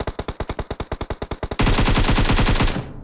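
Rapid gunfire from the mobile battle royale game PUBG Mobile on the Sanhok map: a fast, even burst of automatic shots for about a second and a half, then a dense continuous roar of fire that fades out at the end.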